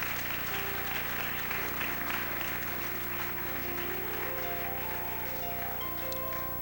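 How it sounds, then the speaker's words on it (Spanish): A church congregation clapping at a Spanish-language evening service, a soft continuous wash of applause that sounds distant and muffled beneath a steady background hum. "Dale un aplauso al Rey en esta linda y gloriosa noche."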